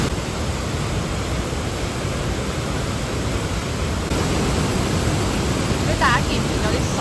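A waterfall near Jasper, Canada, thundering with spray, a dense, steady roar of rushing water heard up close, loud and unbroken throughout.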